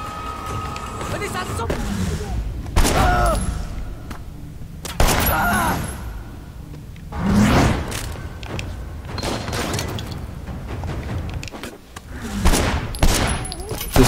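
Gunshots in the video game Sleeping Dogs, several heavy bangs spread across a busy stretch of game action with mechanical clatter, mixed with a person talking throughout.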